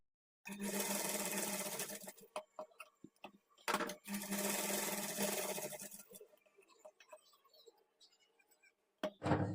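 A sewing machine runs double stitches along blouse pieces in two sustained whirring bursts, close and steady, separated by brief stops, clicks and fabric handling, then a short final burst.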